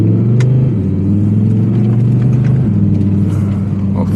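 A 2023 Audi R8 V10 Spyder in sport mode idles with a deep, loud rumble from close by, the low growl stepping down slightly as it settles, with faint clicks over it.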